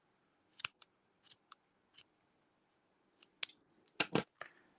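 Quiet, close snips of scissors trimming mixed fiber tassel loops on a kumihimo necklace, a few crisp cuts spaced apart, then a cluster of sharper snips near the end.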